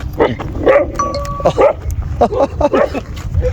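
Kangal shepherd dogs bark and yip in short, irregular bursts close by, the barks overlapping with a voice talking through them.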